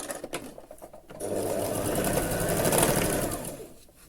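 A sewing machine stitches the side seam of a dress, joining the front and back panels. It runs in one continuous, close whirring burst of about two and a half seconds, after some brief handling noise.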